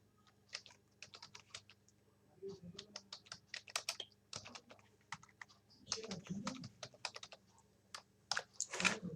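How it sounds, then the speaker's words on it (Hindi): Typing on a computer keyboard while filling in personal details for a résumé in Microsoft Word: quick irregular bursts of key clicks, close and fairly quiet, with brief pauses and a few heavier taps. "तो पर्सनल डिटेल हम यहाँ पे टाइप कर लेंगे"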